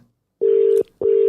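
Telephone tones: two steady, loud electronic beeps, each about 0.4 seconds long, separated by a short gap, with a faint murmur just before them.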